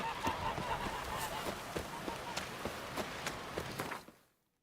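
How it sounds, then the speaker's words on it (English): Geese honk repeatedly in a video game, sharp calls popping at an uneven pace over a steady bed of ambient game noise before the sound cuts out near the end. "The geese didn't attack me this time, so that's good."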